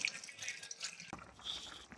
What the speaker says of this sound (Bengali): ঝোল রাখার জন্য পানি দিয়ে দিব।